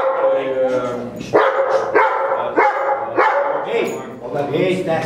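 A dog barks several times in sharp bursts, close by, mixed in with people talking and some crowd noise.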